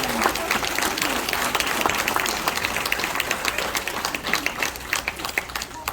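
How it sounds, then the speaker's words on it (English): A school graduation audience claps steadily for graduating 8th grade students, dense sustained applause filling the hall with no break. "Please join me applauding them."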